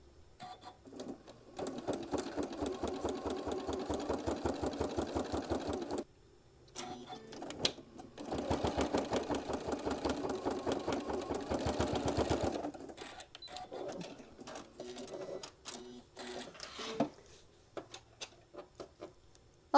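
A sewing machine runs top stitching in two long rapid bursts of steady mechanical rattling, separated by pauses filled with scattered clicks and handling noises.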